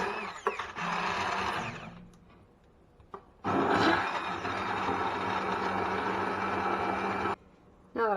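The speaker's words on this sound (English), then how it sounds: "I'm just going to blitz it up with my trusty immersion blender." An immersion blender whirs through a pot of warm miso lentil gravy in two loud, sustained bursts, with a quiet pause between them and a short lull at the end.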